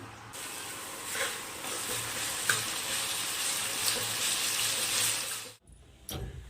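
Cauliflower boils in a pot of water on a home stove, giving a steady, close bubbling hiss that runs unbroken for several seconds before cutting off abruptly near the end.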